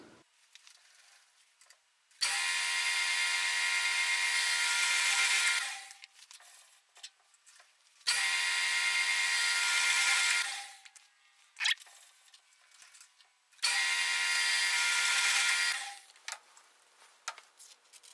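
Jet JMD-18PFN mill drill drilling bolt circle holes, three separate bursts of loud steady cutting noise of several seconds each, separated by quieter pauses, with no speech.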